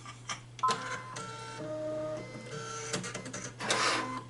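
An embroidery machine starts up and stitches, giving a mechanical whirring with repeated ticks and tonal motor whines over a steady hum, close and fairly loud with no talking.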